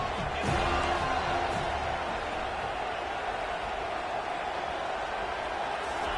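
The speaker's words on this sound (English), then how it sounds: "Third down, and the crowd really getting into it" A football stadium crowd roars steadily on third down during a College Football Playoff second-round game against Florida State, forming a dense, even wall of distant crowd noise throughout.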